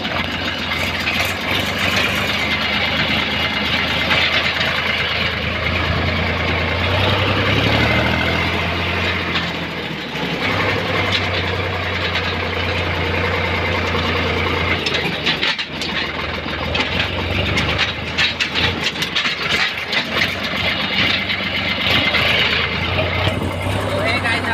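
A tractor engine idles steadily and loudly for a long stretch while the trailer is unloaded outdoors, with people talking over the rumble and scattered clatter in the background.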